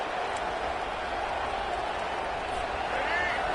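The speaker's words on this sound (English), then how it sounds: "This crowd bringing the energy and noise early." A steady roar of a large stadium crowd at an Oklahoma versus New Mexico game, dense and continuous, with a broadcast voice faintly underneath.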